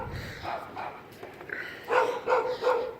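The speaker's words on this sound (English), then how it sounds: "Oh, dogs are barking." Dogs barking outdoors at a moderate distance, a few scattered barks and whimpers at first, then three loud, evenly spaced barks toward the end.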